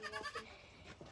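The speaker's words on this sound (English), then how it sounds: "we'll finish it off with some goats" Goats bleating on a farm, a couple of short faint wavering bleats, one at the start and a softer one near the end.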